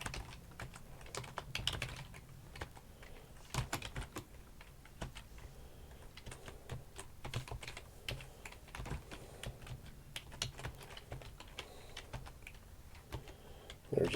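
Fingers type on a computer keyboard while entering code into a Python shell, producing quiet, irregular clicking keystrokes that come in steady clusters with short pauses.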